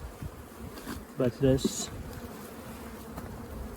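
Honeybees buzzing around an open hive in an apiary, a steady hum with a few louder close passes as individual bees fly near, and a person speaking briefly over it.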